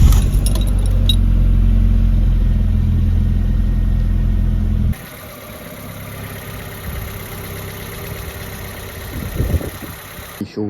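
A 2008-2016 Ford Ka with freshly replaced spark plugs runs with a loud, steady low engine drone for about five seconds, then cuts out, leaving quieter clatter and handling noises nearby.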